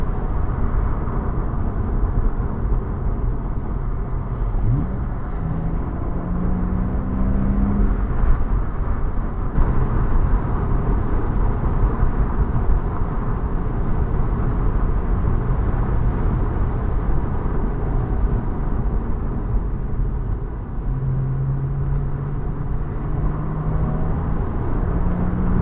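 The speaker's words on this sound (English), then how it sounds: "Tight corner. Second gear. Hit the gas." A 2005 Porsche Boxster S drives along with steady engine and road noise heard from inside the cabin, and a couple of brief rising engine pulls come through under the constant drone.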